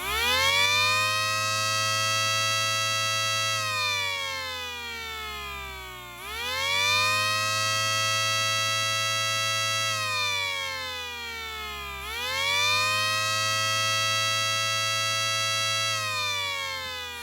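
Small 3D printed siren model powered at 6 volts from a bench supply wails loudly and steadily, its pitch rising and falling in three repeated cycles about six seconds apart, with no voices over it.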